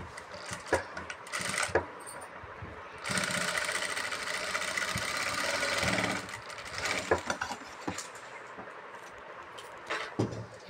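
A sewing machine runs in short bursts while stitching a churidar garment's fabric, its rapid mechanical whirring rising and stopping amid handling clicks and taps, with one longer burst in the middle.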